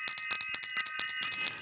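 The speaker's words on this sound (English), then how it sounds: "I'm going to ring the bell really quick." A small bicycle-style bell is rung with rapid repeated strikes, a bright metallic ringing that pulses quickly and keeps sustaining close and clear, with no talking.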